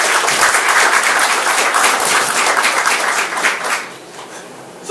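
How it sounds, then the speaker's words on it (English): An audience at a community strategic-plan meeting applauds volunteers, loud dense clapping that tapers off after about four seconds. "I would like to get a round of applause for them because they're volunteers in the back."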